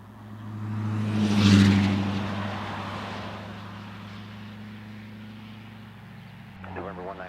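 Fixed-wing airplane taking off from runway 12 at Bozeman airport, its engine roar swelling loudly then fading as it climbs away, with a radio voice talking over it.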